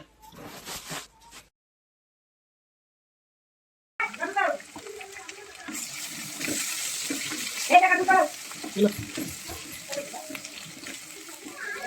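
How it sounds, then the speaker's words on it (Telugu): Ginger garlic paste sizzling and being stirred in a pan while making Telugu-style crab curry, a steady frying crackle with scraping after a quiet start and a brief voice at the opening. "అల్లం వెల్లిగడ్డ వేసుకొని బాగా కలుపుకొని కొద్దిసేపు తర్వాత పసుపు వేసుకోవాలి."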